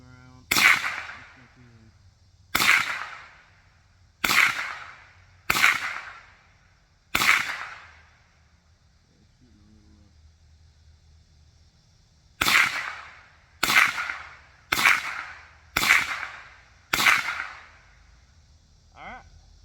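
Shots from a Rossi R22 .22 rifle, sharp cracks in two volleys of five, evenly paced about a second or two apart with a pause between, each with a short decaying tail outdoors.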